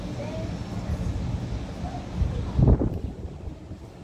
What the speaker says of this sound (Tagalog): Isibo yung hangin, lamig ah.